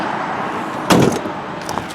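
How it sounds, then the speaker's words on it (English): Rear hatch of a green 2003 Chevy Tahoe LT 4X4 swinging shut with a single solid thump near the one-second mark, followed by faint rattles, over steady outdoor background noise. "While I'm back here, close this hatch."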